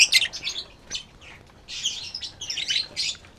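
Lovebird chicks chirp in quick, high-pitched bursts while being lifted by hand from a nest box, close by and fairly loud, with short pauses between clusters of cheeps.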